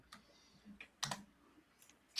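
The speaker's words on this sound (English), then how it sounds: "I was just like hearing typing and I got distracted for a second" Faint keyboard typing in the background, a few scattered quiet clicks and taps spaced unevenly over a couple of seconds, with no talking.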